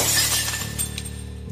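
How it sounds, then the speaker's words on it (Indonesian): Glass shatters loudly in a single sharp burst, with bright fragments ringing and tinkling out over about a second. "ada benda pecah"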